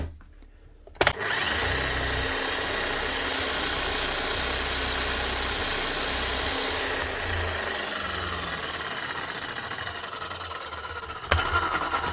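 A Bosch electric demolition hammer starts with a sharp click and then runs steadily with a dense, buzzing drone that shifts slightly in pitch, ending with another click.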